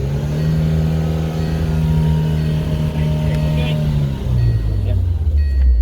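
Race car at Thruxton race circuit revved to about 4500 RPM for a trackside noise test, a loud, close, sustained engine howl that holds steady and then drops sharply to a lower idle, with brief voices near the end.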